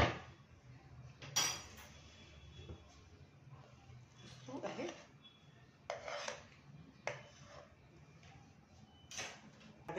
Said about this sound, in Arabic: عايزه بقى تحطيها كده في طبق